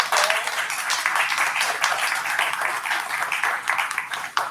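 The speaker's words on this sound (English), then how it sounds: "Let's give these ladies a round of applause." Steady audience applause at a literary festival artist conversation, a dense continuous patter of many hands clapping that holds at an even level throughout and tapers slightly at the very end.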